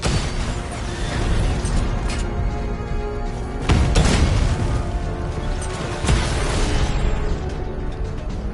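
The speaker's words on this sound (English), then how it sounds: "Drone unit destroyed at the canal." Heavy explosion booms from a drone being destroyed in Batman: Arkham Knight, loud and dense, with rumbling blasts and bursts rolling over a continuous mechanical din.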